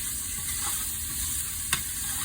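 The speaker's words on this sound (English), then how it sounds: "Just lightly stir fry it in the pan until it's ready" Vegan, gluten-free food stir-frying in a pan, a steady close sizzle with soft stirring and one brief sharp knock of the utensil near the end.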